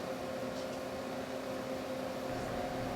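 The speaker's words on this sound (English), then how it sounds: "All right, so we got all the ingredients in the mixer" A stand mixer working pretzel dough, giving off a steady, even motor hum with a low tonal whine that runs unchanged throughout, moderately loud and with no voices.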